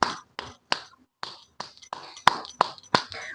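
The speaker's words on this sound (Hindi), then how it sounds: "इस तरह से टैपिंग करनी है हथेली के ऊपर" Fingers tapping on the palm of the hand, a run of about ten short, crisp pats in a loose, uneven rhythm, close and clear with quiet gaps between.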